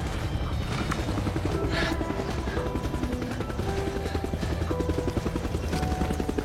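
A continuous low, throbbing rotor drone of a helicopter, steady and fairly loud, with a rhythmic chop running beneath the noise.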